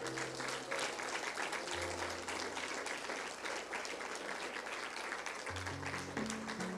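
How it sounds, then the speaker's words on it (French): Congregation clapping during a Sunday morning church service, a steady, continuous round of applause heard from the room at moderate level, with low musical tones sustained beneath it. "Est-ce qu'on peut donner un bon applaudissement au Seigneur?"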